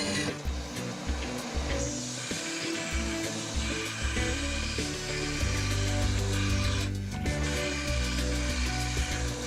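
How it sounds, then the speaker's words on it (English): A belt grinder rounds the ends of flat bar mounting tabs, with a steady machine drone and repeated bursts of grinding contact, close and fairly loud, with no speech. "round the ends on the belt grinder."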